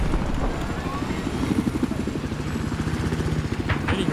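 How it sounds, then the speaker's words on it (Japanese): A helicopter in Battlefield 4 thumps steadily and loudly with a rapid, pulsing rotor beat over a droning engine, close by and continuous. "あ、ヘリがいますよ。"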